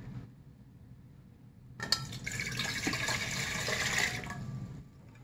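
Two cups of water pour steadily into a metal rice cooker pot, starting with a clink and a splash, then a bright rushing fill for a few seconds before stopping.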